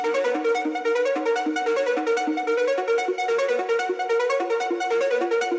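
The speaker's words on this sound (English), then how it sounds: "so to start off, we have this main synth" Main synth melody from a trap beat, taken from Xylength: a bright, bell-like lead playing a continuous repeating riff, loud and up front with no voices.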